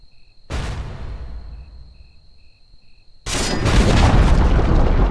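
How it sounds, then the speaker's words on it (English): A tower crumbles in Dota 2, two heavy booming crashes: one with a fading rumble, then a louder sustained roar of collapse, over a faint steady tone and beeping. "Dire's bottom tower has fallen."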